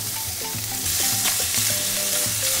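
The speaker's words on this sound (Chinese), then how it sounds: "蒜头放几个下去，" Garlic cloves and salted fish sizzle and fry in a hot wok with lard, a steady loud crackle with clattering stirring through the whole stretch, no voices.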